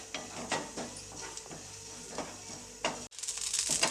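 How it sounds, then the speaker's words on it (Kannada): Half a tablespoon of mustard seeds roasts in a pan over a medium flame, crackling and spluttering in sharp, irregular pops over a soft sizzle, close and fairly quiet, with a brief pause before a louder hiss. "ಒಂದು ಅರ್ಧ ಟೇಬಲ್ ಸ್ಪೂನಷ್ಟು ಸಾಸಿವೆ ಹಾಕ್ತಾಯಿದ್ದೀನಿ ಇದೆಲ್ಲ ಚಟಪಟ ಅನ್ನೋವರೆಗೂ ಹುರ್ಕೋಬೇಕು"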